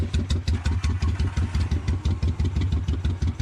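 A vintage Italian motorcycle engine idles close by, firing in a steady, lumpy rhythm of rapid clattering pulses that stays loud and even throughout with no voices.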